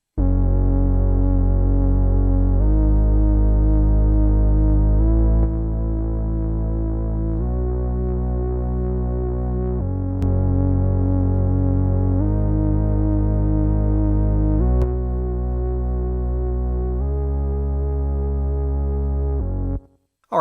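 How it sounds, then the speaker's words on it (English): A heavily compressed, droning synth bass line through a Cubasis 3 channel strip with saturator distortion, gritty and sustained, notes shifting pitch every few seconds, dark and muffled with the highs cut. "definitely compressing that signal as you can hear and cutting off a bunch of the highs"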